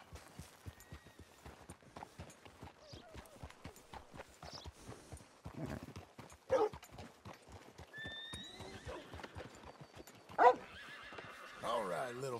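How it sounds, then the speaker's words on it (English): Rhythmic hoofbeats clop steadily throughout while a horse whinnies a couple of times, with game-like ambience underneath. "Fine horse you got there."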